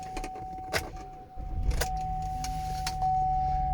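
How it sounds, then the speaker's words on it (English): Keys jingle inside a 2015 GMC Acadia SLT before the engine cranks and catches, then settles into a quiet, steady idle heard from within the cabin. "This vehicle is a key to start, foot down on the brake, turn the key."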